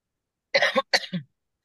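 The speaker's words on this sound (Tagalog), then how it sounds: "Bigla na ubo." A person coughs suddenly during a classroom review session, a quick cluster of two or three sharp, close coughs alone against silence.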